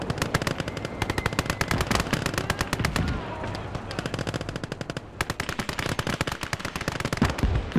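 Dense, rapid machine-gun bursts and gunshots from a World War II battle in the game Gates of Hell, loud and continuous with brief lulls, firing in rhythmic rattling streams throughout.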